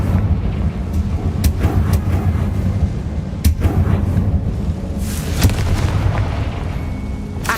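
Confringo blasting spell explosions in Hogwarts Legacy: repeated booming blasts and sharp cracks over a steady rumbling game backdrop, loud and close, without any talking.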